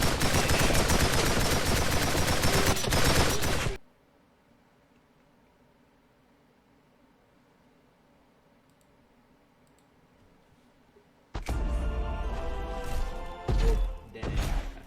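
Rapid bursts of video game gunfire, dense and loud, fill the start, then near-silence follows before another loud burst of shots near the end; no talk.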